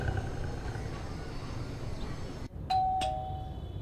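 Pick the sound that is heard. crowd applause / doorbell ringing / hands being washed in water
doorbell ringing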